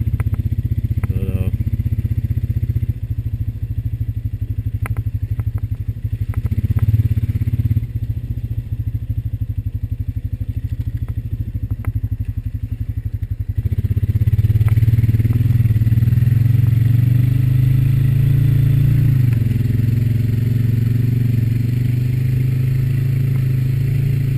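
A Honda Rancher 420 ATV engine hums steadily as the machine rides down a steep slope and crosses a ford, with low engine drone, clattering and scraping, and a louder rev near the end.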